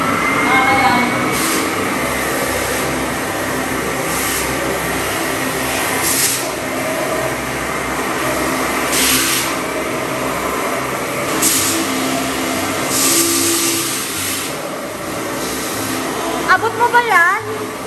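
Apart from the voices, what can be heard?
vacuum cleaner running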